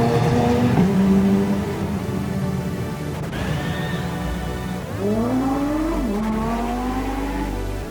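GT race cars at Spa-Francorchamps during a 24-hour GT World Challenge and GT4 European Series round, engines roaring and revving with pitch sweeps as cars pass, a brief tire squeal, loud and continuous.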